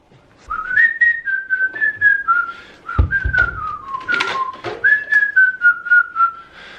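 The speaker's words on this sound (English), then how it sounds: "You guys feeling the whistle soundtrack?" A person whistles a bouncy melody up close, short phrases with brief breaths between, clear and bright.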